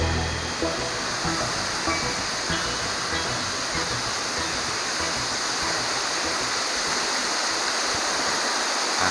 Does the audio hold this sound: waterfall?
yes